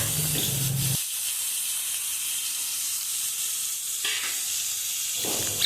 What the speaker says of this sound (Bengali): সব সবজির সাথে এবারে মাছটা ভালো করে ভাজতে থাকবেন।